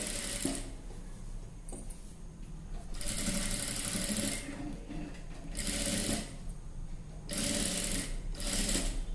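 Sewing machine stitching piping onto a blouse neckline: repeated runs of steady, fast mechanical whirring, each a second or two long, broken by short quiet pauses.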